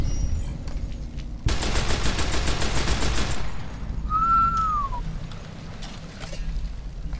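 A rapid burst of automatic machine gun fire from the Fallout New Vegas video game rattles for about two seconds, followed by a brief high whistle and quieter ambient game noise.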